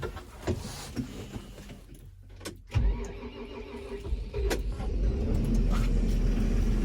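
A Fendt Vario 716 tractor's diesel engine cranks and catches, then settles into a rising, steady rumble that grows louder toward the end, with faint mechanical noise around it.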